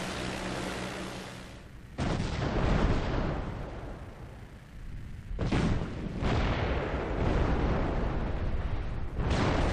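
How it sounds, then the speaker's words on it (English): Artillery shells strike a target in the flight game Rise of Flight, heavy rumbling explosions landing in several loud bursts, each swelling into a sustained roar with brief pauses between impacts. "So there we go, lots of artillery hits there."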